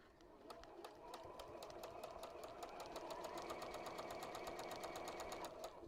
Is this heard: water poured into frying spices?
no